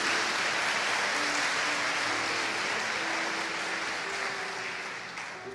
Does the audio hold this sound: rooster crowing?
no